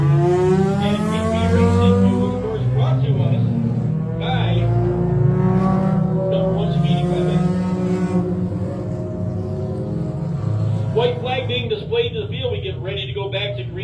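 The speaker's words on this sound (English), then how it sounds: "green flag racing action" Stock cars racing around a speedway in a Thunderstock Division event, engines droning and revving steadily throughout, with a track announcer talking over the engine noise.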